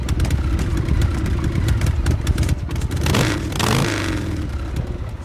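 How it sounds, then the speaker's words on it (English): The Pulp Fiction chopper motorcycle rumbles close by, its engine already running at a steady throb before a brief rev swells and settles back, loud and alone without voices. "Ignition switch turn, followed by clean engine startup."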